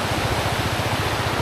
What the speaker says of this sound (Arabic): ما تسمع هنا الا صوت النهر